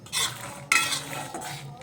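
A spoon scrapes and clinks against a pan as almonds are stirred while frying, two close bursts of stirring with soft sizzling in between.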